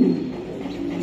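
A racing pigeon at a breeder's loft gives a brief, low, close coo.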